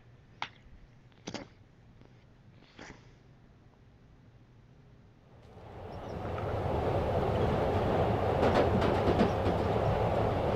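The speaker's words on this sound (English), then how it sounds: "I'll try the subway." Spider-Man video game: a few sharp clicks sound over quiet ambience, then a subway train's rumble swells up and holds as a steady, fairly loud rolling roar.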